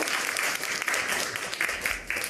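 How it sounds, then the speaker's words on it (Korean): An audience at a launch ceremony for a citizens' media-watch group in Hana claps for newly appointed committee chairs, a continuous, busy patter of many hands at moderate level throughout. "우리 중책을 맡으셨는데 우리 박수 좀 보내주시죠"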